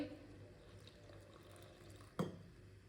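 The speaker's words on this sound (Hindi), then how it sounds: "पानी डाल लेंगे।" Water is poured into a bowl of gram flour and salt for aloo kabab batter, making one brief close splash against a quiet kitchen background.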